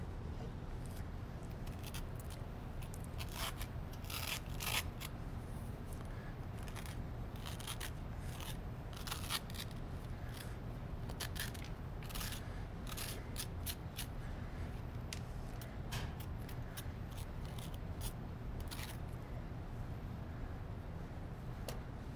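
Seeds being scraped out of a squash: quiet, close, dry scratching strokes repeat at an irregular pace with no talking.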